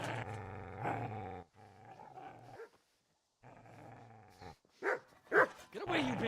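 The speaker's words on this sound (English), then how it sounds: "Get away, you mutt!" A dog in Kingdom Come: Deliverance growls low and long at the player, pauses in silence, growls again, then breaks into a few sharp, close barks.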